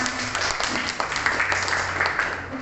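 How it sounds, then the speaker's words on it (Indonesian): Audience applause for a speaker at a school talk on spreading positive culture, a steady wash of many hands clapping at moderate distance, sustained throughout. "aplaus untuk Pak Lukman"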